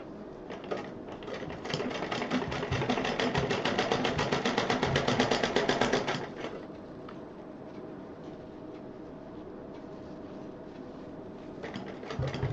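Rapid mechanical stitching of a sewing machine running on the zip side of a handmade stylish purse, a steady loud whir for about six seconds, then a lower idling hum before the motor picks up again near the end.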